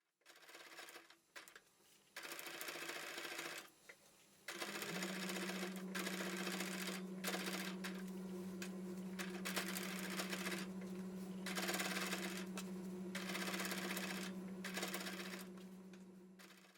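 Sewing machine stitching the border of a whole cloth quilt, a steady close mechanical whir that runs continuously after a few brief starts and stops, with no voices.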